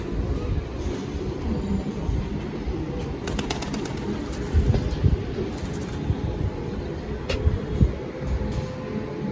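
Red Jiriya pigeons of an old Andhra high-flying bloodline coo softly amid a steady low rumble of background noise, with occasional sharper clicks and faint voices nearby.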